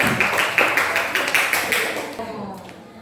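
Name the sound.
pupils clapping in class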